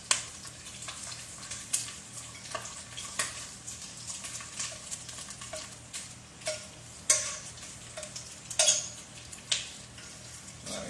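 Bacon crisping in a pan gives a steady, soft sizzling hiss, with scattered light clicks and ticks from a utensil against the cookware throughout.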